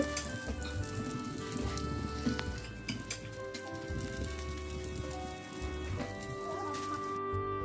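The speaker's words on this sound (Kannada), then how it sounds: "ಇದನ್ನೀಗ ಟರ್ನ್ ಮಾಡಿ ಇನ್ನೊಂದು ಸೈಡ್ ಕೂಡ ಫ್ರೈ ಮಾಡೋಣ" Rava-coated fish sizzling in a pan on its second side, a steady crackling, spattering fry that runs unbroken for several seconds, close and fairly loud, with no talking over it.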